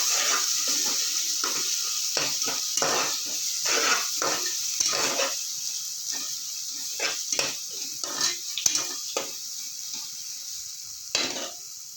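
Turmeric and spices fry in a pan for tomato bath with a continuous sizzle, while repeated scraping strokes of stirring come through at an uneven rhythm, up close.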